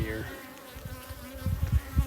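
Honey bees hum steadily inside an opened hive, a continuous close drone that swells louder toward the end with low thumps of handling underneath.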